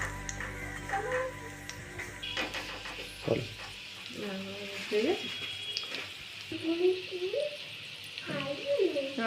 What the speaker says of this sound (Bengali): এগুলোকে আমি বেশ উল্টে পাল্টে ভেজে নেব সময় নিয়ে